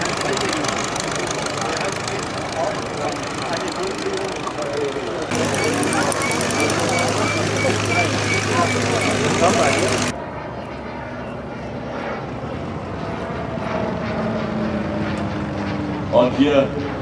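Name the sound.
vintage aircraft engine starting for sightseeing flights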